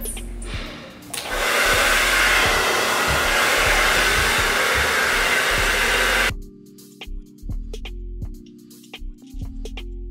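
A hair dryer blows hair during a blowout with a loud, steady close-up roar for several seconds. It then cuts off, leaving quiet handling clicks.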